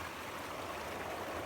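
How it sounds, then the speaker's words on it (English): Water keeps running in a stream despite well-below-freezing winter cold, a steady, even rushing and trickling wash that fills the whole short stretch without pause or voices. "moving water, even though it is well below the freezing point, does not freeze and continues to flow"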